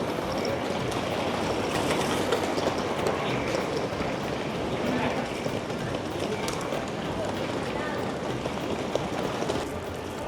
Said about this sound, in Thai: ตรงนี้ก็เป็นบรรยากาศใน สถานีอูเอโนสเตชันนะครับ